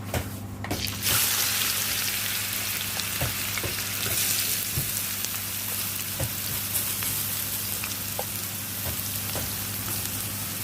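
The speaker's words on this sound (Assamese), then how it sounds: "পিঁয়াজখিনি ৰঙচুৱাকৈ ভাজি লওঁ।" Oil sizzles and crackles steadily as onions fry, a close, continuous hiss with occasional sharper pops and stirring clicks.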